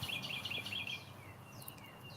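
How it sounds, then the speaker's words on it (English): Faint high bird chirps twitter in quick bursts early on, then a few thinner calls over a soft outdoor background. "Y'all hear the birds?"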